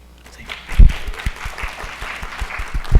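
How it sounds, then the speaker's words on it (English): An audience at a university education pinning ceremony claps in a loose, uneven burst, with a few louder close claps standing out over a thinner patter for about three seconds. "give yourself a round of applause"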